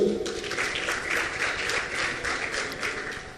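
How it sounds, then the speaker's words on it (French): Crowd applause at an institutional ceremony in Haiti, a thick wash of many hands clapping that swells slightly and then eases off, sustained and fairly close, with no speech on top. "Toujours sous vos applaudissements,"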